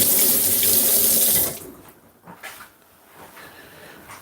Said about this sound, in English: Let me just rinse this off a bit